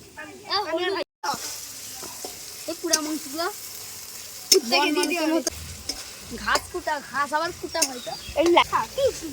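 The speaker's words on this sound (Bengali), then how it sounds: "আলু ভাজা চলছে" Potatoes fry at an outdoor picnic cookout: a continuous close sizzle with stirring scrapes runs beneath several people talking and bickering over it.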